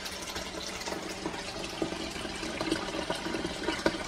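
A small DC water pump runs submerged in a sink of water, powered by a 12-volt battery, giving a steady low churning, gurgling water sound with faint splashes, fairly quiet and continuous throughout.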